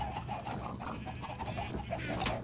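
Chickens cluck in Minecraft in quick, uneven bursts over a constant low drone, close and moderately loud, without speech.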